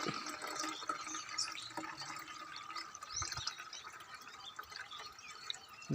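Fresh water pours steadily into a tractor radiator in a continuous splashing rush, close by, with a few drips and gurgles and no voices.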